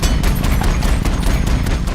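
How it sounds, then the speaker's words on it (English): A massive cannon on an AMP suit, the armored combat mech in Avatar, fires as a dense, booming barrage. The blasts are loud and close, with rapid repeated impacts over two seconds. "the amp suit has to sound like the most massive cannon you ever heard"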